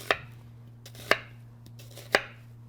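A kitchen knife slices through a halved sweet potato on a cutting board, three crisp evenly spaced thunks about a second apart over a steady low room hum.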